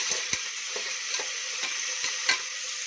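Onions sizzle steadily in oil in a pan, a close, continuous hiss broken by a few soft scrapes of a spoon as they are stirred.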